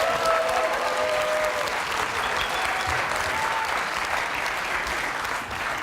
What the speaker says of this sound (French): Merci d'applaudir bien fort Christiane de l'Hérault.